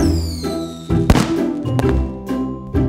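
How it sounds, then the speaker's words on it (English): Fireworks go off in an animated train story: several sharp bursts and dull thumps spaced about half a second to a second apart, over a steady tonal music bed. "Oh wow, fireworks!"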